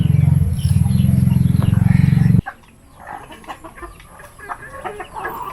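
Chickens at a farm cluck in a loud, dense burst of fowl noise that cuts off abruptly after about two seconds, leaving quieter scattered clucks and rustling.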